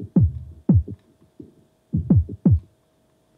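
Music heard with only the low frequency band soloed in a VST multiband plugin: deep, muffled thumps in an uneven pulsing rhythm, with the higher frequencies stripped away.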